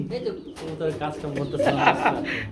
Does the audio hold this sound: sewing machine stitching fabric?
no